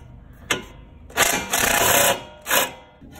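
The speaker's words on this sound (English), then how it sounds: "This is the bolt that we need to take off." Mechanical work on a Cub Cadet LT1042 riding mower while a bolt is taken off, with a few short bursts of whirring, rattling tool noise separated by quieter gaps, close by.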